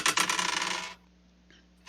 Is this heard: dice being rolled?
yes